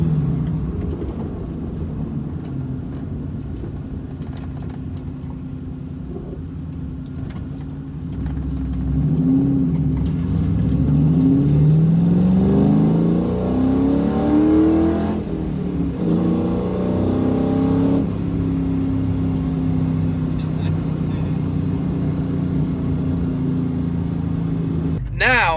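A 2001 Ford Mustang GT with a manual transmission idles steadily, then its engine revs up and down in rising sweeps through the middle stretch before settling back to a constant drone. The engine stays close and loud throughout.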